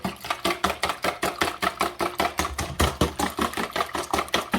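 Eggs being whipped briskly for peach cobbler French toast, a rapid, steady rhythm of clattering strokes repeating about five times a second, loud and close with no talking.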